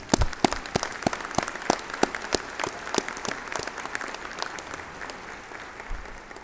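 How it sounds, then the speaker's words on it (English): Audience applause at a summer commencement ceremony, with sharp individual claps standing out over a steady wash of crowd clapping that carries on throughout and gradually thins. "You deserve a big round of applause."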